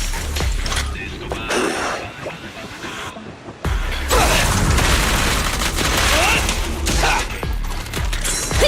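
Gunfire and booming impacts from the action game Zenless Zone Zero, a dense loud barrage of shots and blasts with a brief lull partway, then a heavier sustained volley; a voice speaks under the din.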